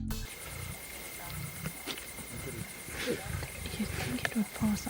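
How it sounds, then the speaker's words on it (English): A lioness feeds on a live impala at night in the wild, with low growling and rasping distress cries rising intermittently over a noisy background, while people talk throughout. "you can see a lioness eating an impala alive, where she is crying for help"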